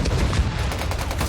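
A short, dense burst of rapid gunfire and explosive thuds from battlefield combat in the video game Company of Heroes 3, loud and continuous with no talk.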